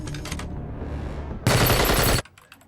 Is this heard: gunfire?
yes